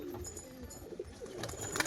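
Male pigeon cooing among a loft of pigeons, soft repeated coos and bird calls continuing throughout over a busy background.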